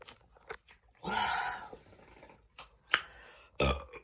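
After drinking Diet Pepsi, a person lets out a deep, drawn-out burp, surrounded by quieter mouth sounds and short swallowing noises, close to the microphone.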